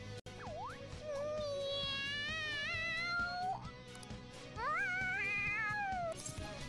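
A cat in Persona 5 Royal lets out a string of loud, drawn-out meows that rise and bend in pitch, with a brief pause midway before another run of excited yowls.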